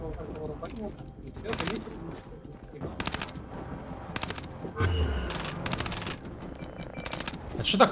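Video game gunfire from Splinter Cell: Blacklist online play, in repeated bursts and scattered shots, loud and close, with voices talking underneath.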